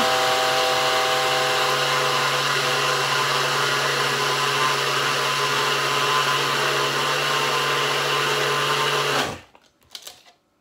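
A small electric mill grinds granulated sugar into icing sugar with a loud, steady high-pitched motor whine lasting about nine seconds, then cuts off, followed by a few brief rattles.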